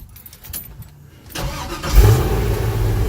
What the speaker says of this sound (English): and we'll fire it up